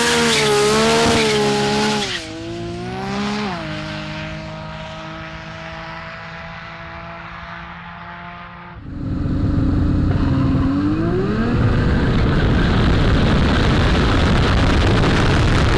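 A 2012 Nissan GT-R makes warm-up runs on an Australian runway: loud engine revs high, drops to a steadier idle-like drone, then roars again in hard acceleration with a rising tone.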